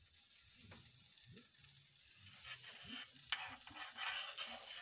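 Swahili pizza fries in a hot buttered pan with a steady close sizzle, while a utensil scrapes and stirs in short irregular strokes; there is no talking.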